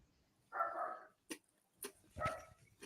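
Dogs barking in several separate bursts, moderately close and fairly loud, with short gaps of quiet between them and no talk over the barks.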